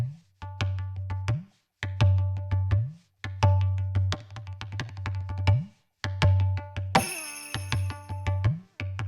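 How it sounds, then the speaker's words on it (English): Hand-played tabla sound from a Korg Wavedrum pad, deep resonant bass strokes with pitch bends mixed with sharp ringing finger taps in repeating rhythmic phrases, plus a bright shimmering burst partway through, no talking. "And that holds true for other hand percussion sounds like this tabla."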